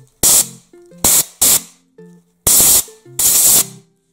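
Sharp bursts of compressed air from an air compressor blowing the papery skins off garlic bulbs, five loud hissing blasts of varying length separated by short quiet gaps, close up.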